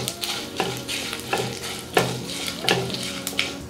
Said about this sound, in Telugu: ఈ పప్పులు కలర్ మారే వరకు వేయించుకోవాలి.